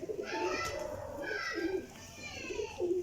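Pigeon cooing at close range in a Pakistani household setting, a series of soft rolling coos repeating steadily over several seconds, with faint background chatter and chirps.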